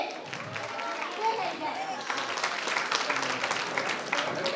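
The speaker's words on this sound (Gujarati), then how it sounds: "જોરદાર તાળીઓ થઈ જાય આ પરફોર્મન્સ માટે" Steady applause from a school audience at a Republic Day celebration after a performance, many hands clapping continuously at moderate distance, with a voice speaking over it.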